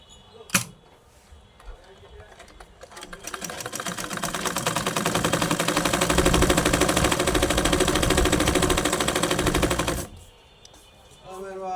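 A sewing machine stitches in a steady rapid mechanical rattle that runs for about seven seconds and then stops, with brief clicks before and after.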